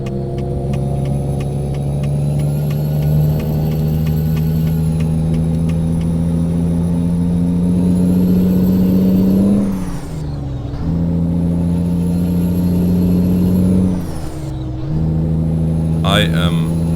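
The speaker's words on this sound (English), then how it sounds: "Wow, that engine is really... it's shaking my seat." A heavy truck engine in Euro Truck Simulator 2 with ProMods rumbles as a loud, steady low drone, its pitch dipping briefly twice as if shifting or braking, then settling back into the hum.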